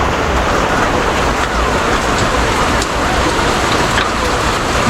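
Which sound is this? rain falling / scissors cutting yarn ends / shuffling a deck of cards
rain falling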